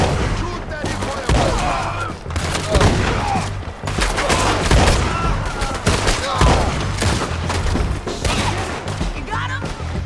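Dense, loud gunfire from a Red Dead Redemption 2 shootout, with shots and volleys cracking continuously across the whole stretch, layered with game sounds and voices talking over the action.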